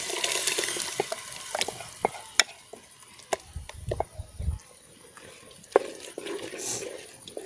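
Masala being stirred into Tuluva chicken puli munchi made with tough country chicken, with scattered spoon clicks and scrapes and a soft wet sizzle at moderate volume, rising briefly to a low bubbling burst midway.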